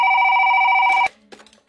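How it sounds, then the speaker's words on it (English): A telephone bell rings loud and close in a steady electronic trill that cuts off abruptly, followed by brief rustling and movement. "How is it ringing? It's not even plugged in."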